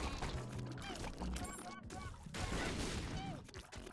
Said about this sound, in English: Seems to explode a lot of things as well because of the blood explosions.